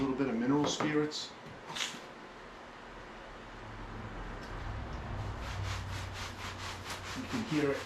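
A cloth wiping scuffed styrofoam down with mineral spirits, a soft rubbing swish repeated in quick strokes close by, with a person talking at the start and end.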